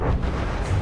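Heavy cannon fire from a video game booms in a dense, low rumbling roll, loud and close, with blasts running together.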